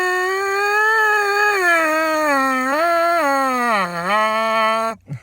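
Crude beginner buzzing on a trumpet mouthpiece: a single nasal, sustained tone that wavers and slides up and down in pitch for about five seconds, played close and loud with no other sounds, then breaks off abruptly.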